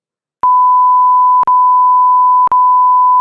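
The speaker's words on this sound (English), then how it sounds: "So, instead of I'll beep all this out" A censor bleep covers spoken words on a livestream: a loud, steady pure tone that starts after a short silence and runs in three long stretches, split by tiny gaps, with no talk audible.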